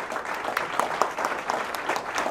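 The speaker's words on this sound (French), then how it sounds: "J'aimerais avoir une bonne main d'applaudissements pour Pierre, qui travaille très fort." Applause at a small press conference, a short burst of clapping from a modest audience, steady and fairly faint, with no voices over it.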